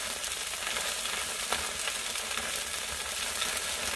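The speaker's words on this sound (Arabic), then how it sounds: "بنتابع شوي الاخطبوط عشان نقلبه على الوش الثاني" Octopus grilling in an oven pan with a marinade, olive oil and date vinegar, giving a steady, fairly loud sizzle and crackle that runs the whole time, with one brief sharper pop partway through and no talking.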